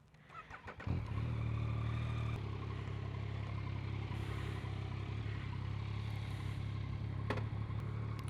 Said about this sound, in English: let's start this baby up, get on the bike, and continue the vlog while riding